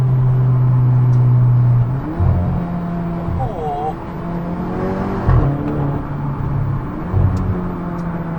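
A Volkswagen Golf engine drones steadily, then revs up and down in a few surges while people talk and exclaim over it.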